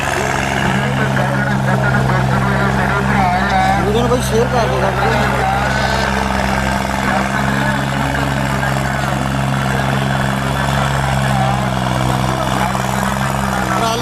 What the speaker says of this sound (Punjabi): ਨਿਊ ਹੋਲੈਂਡ ਟਰੈਕਟਰ ਆ ਰਿਹਾ ਤੁਹਾਡੇ ਸਾਹਮਣੇ